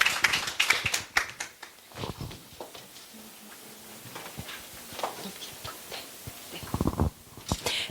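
A small audience at an education seminar claps to welcome a presenter, scattered hand claps and taps of moderate loudness that thin out and pick up again, with no speech over them.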